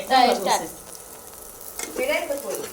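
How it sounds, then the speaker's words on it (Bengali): Dried shrimp and chilies fry in oil with a steady close sizzle, while a person talks over it at the start and again near the end. "চিংড়ি মাছের সুটকি মরিচ তেলে ভেজে নিতেছি"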